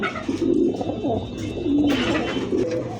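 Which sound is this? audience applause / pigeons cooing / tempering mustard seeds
pigeons cooing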